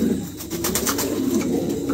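A male King pigeon coos close by, a low, throaty, rolling call that repeats steadily with no other voices.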